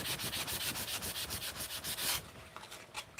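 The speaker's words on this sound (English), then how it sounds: "I've only been using 2 grits of sandpaper so far" Sandpaper rubbing back and forth over a surface in steady, rapid strokes, loud and close, with no talk, before the scraping lightens and turns sparser near the end.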